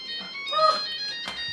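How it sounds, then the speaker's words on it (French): A short electronic phone ringtone chirps at close range, loud and bright, with a rising tone partway through the brief burst. "Quelle plaie ce téléphone!"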